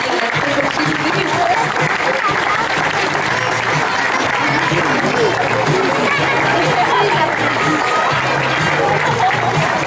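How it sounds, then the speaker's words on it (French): A large crowd applauds at a sea lion show at Beauval zoo, sustained dense clapping mixed with crowd chatter and murmuring, loud and continuous throughout. "vous pouvez applaudir la très jolie Vénus."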